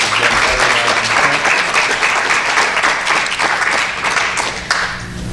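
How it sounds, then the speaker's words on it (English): A panel discussion audience gives the panelists a round of applause: loud, dense clapping from many hands, steady throughout and easing slightly toward the end. "I think we should give a round of applause for all of our panelists."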